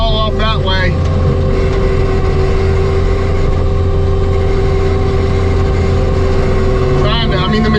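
Tractor with a bush hog mower clearing a dusty stump field, a loud steady engine drone running throughout with higher whining bursts at the start and end.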